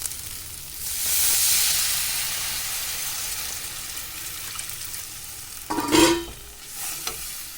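Water poured into turmeric frying in a pan while cooking boroli fish with mustard: a steady sizzle and stirring hiss, then a brief louder splash and burst of sizzling near the end, with no talk.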